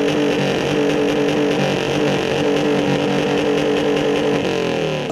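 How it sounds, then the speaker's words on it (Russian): Motorcycle exhaust revving loudly at a loudest-exhaust contest during a motorcycle season opening event in Brest, a steady dense engine roar with sustained harmonic drone throughout, near and loud, no talk. "Были полосы препятствий и конкурс на самый громкий выхлоп."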